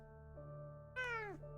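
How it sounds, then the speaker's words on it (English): A house cat gives a single clear, drawn-out meow that falls in pitch, close by, over a steady background hum with no one talking. "The people want to see the cat"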